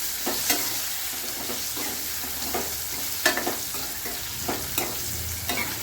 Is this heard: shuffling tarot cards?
no